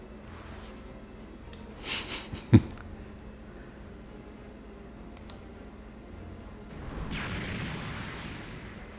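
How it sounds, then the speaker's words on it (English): A boom in Dragon Ball Sparking Zero lands as one sharp, loud blast, followed later by a broad rumbling swell, against quiet game background. "An explosion has occurred."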